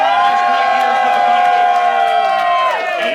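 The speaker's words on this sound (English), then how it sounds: "You thought you would never hear the roar of the crowd" A dense crowd roars and cheers at a Minnesota sports radio show's Friday football broadcast, a loud, sustained wall of voices with whoops, tapering slightly near the end.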